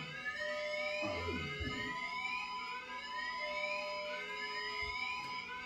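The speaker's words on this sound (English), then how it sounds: "Sounds like some kind of alarm." A shrill electronic alarm repeats rising sweeping tones in a steady cycle, loud and continuous, with a brief low rumble partway through; an unfamiliar alarm.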